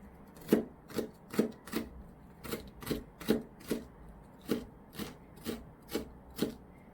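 A knife mincing carrot on a cutting board, about a dozen crisp, evenly spaced chops in a steady rhythm, close and moderately quiet, with no talking.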